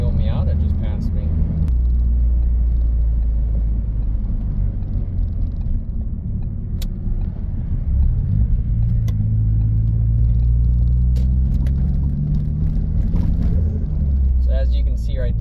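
Engine of a manual car shifting down while driving on a road, a steady loud low rumble with a brief dip and then a rising pitch as revs climb, with a voice speaking over it.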